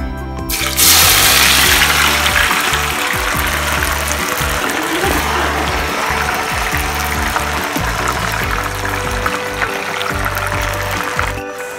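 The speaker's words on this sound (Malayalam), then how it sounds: "ഇനി നമുക്ക് കുറച്ച് കുറച്ചായി ചക്ക ഇതിലേക്ക് ഇട്ട് കൊടുക്കാം." Jackfruit pieces fry in hot oil, a loud, steady hiss and crackle of sizzling that starts abruptly and holds with a constant, dense texture, no voices over it.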